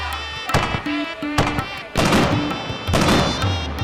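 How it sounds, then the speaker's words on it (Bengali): Cartoon fireworks at a festival competition, a few sharp booming bursts popping out one after another over a bright musical backdrop, fairly loud and close. "পূব পাড়ার আতশবাজি খুব বিখ্যাত।"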